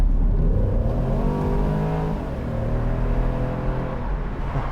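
A 2014 BMW Z4 sDrive28i 2.0 engine revs hard and climbs as it accelerates, loud and close, with a steady throaty roar throughout.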